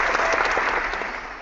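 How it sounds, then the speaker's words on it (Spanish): An audience applauds, a dense and steady burst of clapping that carries on without a break and fades slightly toward the end. "quiero darte un gran aplauso"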